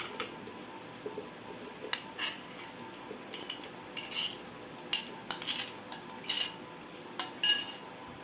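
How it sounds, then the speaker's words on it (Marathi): Papaya pieces dropped and clinked into a mixer-juicer jar, a series of light knocks and clatters that grow denser toward the end, near and fairly quiet with no talk. "आता आपण ज्युसरच्या भांड्यात ह्या फोडी घालून घेणार आहोत।"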